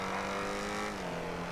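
A sports car accelerating in GTA 5 on PC during a parkour run, engine humming at a steady, slowly shifting pitch, fairly quiet and continuous with no talk.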